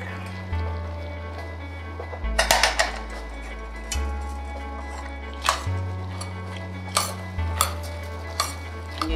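Cheese is stirred into hot macaroni in a pot, with repeated spoon scrapes and clinks against the pot at irregular intervals over steady background music.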